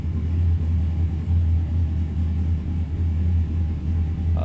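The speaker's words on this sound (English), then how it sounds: "Oh, those cars gridding up" Race cars in a racing video game idle together while gridding up, a steady low engine rumble that holds for several seconds with no voices over it.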